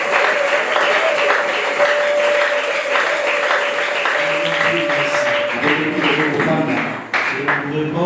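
A church congregation applauding during a Sunday service, a dense and sustained burst of clapping with a few voices calling out amid it, loud and close, thinning slightly toward the end.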